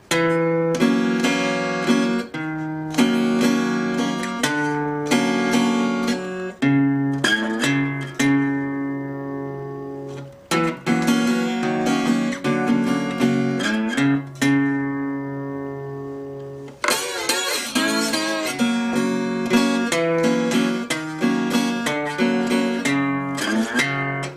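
Acoustic guitar picking a Delta country blues pattern of ringing notes and chords, including the open top string, steady and close, with short pauses between phrases and no voices.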